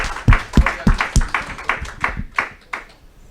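A church congregation claps in a quick, regular rhythm, about a dozen sharp claps in a few seconds, close and lively, then fades slightly toward the end.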